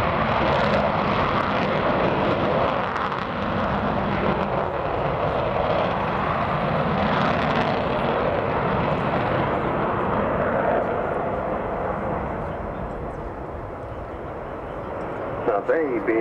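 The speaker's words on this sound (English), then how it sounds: "when they turn on the taps on those 4 big Olympus engines" Sustained, loud roar of the four Rolls-Royce Olympus jet engines of Avro Vulcan B2 XH558 at the Royal International Air Tattoo, holding steady for most of the time and easing slightly near the end, with a voice talking over it.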